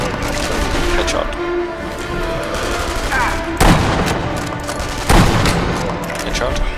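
Rifle gunshots in the shooting game Sniper Elite V2, two loud sharp reports spaced a second or so apart over a constant busy game backdrop with rumbling ambience.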